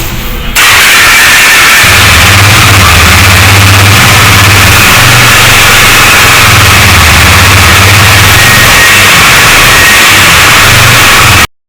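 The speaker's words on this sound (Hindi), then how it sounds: "गाइस अभी भाई इसकी सुनाएंगे आप एग्जॉस्ट साउंड" A Husqvarna motorcycle running steadily, its exhaust giving a loud, constant engine drone with a low throb and heavy wind-like hiss, close up and alone after a brief quiet start.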